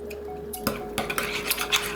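Grated garlic and salt sauce stirred in a bowl with a utensil, several sharp close clinks and scrapes against the dish over a couple of seconds, with no talking.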